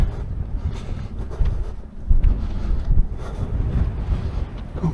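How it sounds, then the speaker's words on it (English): Steady wind buffeting a microphone, a low rumbling roar with gusty surges throughout. "Oh, windy."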